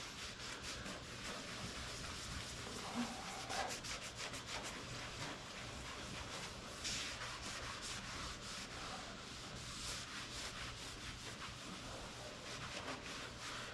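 A 1963 Baja Bug's patina body panel being hand-rubbed with linseed oil, giving a steady, close scrubbing and wiping sound that runs continuously without pause.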